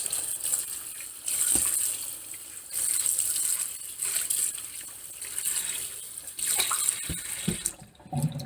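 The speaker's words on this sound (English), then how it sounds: "The next one is rinse the water. Rinse it well enough to get rid of the smell." Pork intestine rinsed under running tap water, a steady hissing stream broken by splashing surges and handling noises as the water hits the meat, heard close with no talk.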